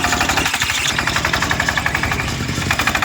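A locally built power-steering power tiller in Bangladesh runs its engine loud and close, a fast rhythmic chugging with a knocking vibration.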